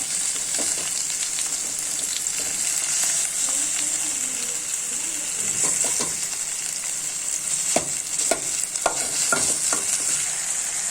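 Onion and tomato sauté in a pan with a continuous bright sizzle, and a spoon gives intermittent scraping and tapping strokes that grow busier toward the end.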